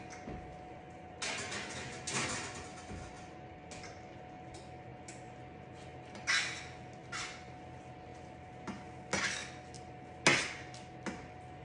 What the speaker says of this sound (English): Just put it on the pan. Toss it in the oven.